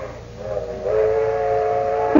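A steam train whistle used as a comedic sound effect in an old radio comedy, a sustained multi-tone blast that swells after a quieter start and holds steadily to the end, heard alone.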